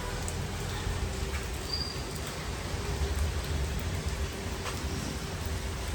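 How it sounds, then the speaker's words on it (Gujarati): Steady, continuous rain falling outdoors on a wet morning, a dense even wash of drops holding at one level throughout with no break and no voices. "કન્ટિન્યુ એક ધારો વરસાદ ચાલુ છે"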